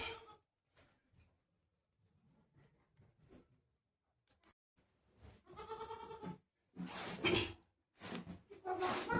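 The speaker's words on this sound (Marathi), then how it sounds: "शेळ्यांची पिल्लं ठेवतात छोटी छोटी, जी एकदम छोटी आहेत." Small goat kids bleat in short, thin calls, faint at first and then louder and closer, with several cries spaced over the final seconds inside a pen on a trek route.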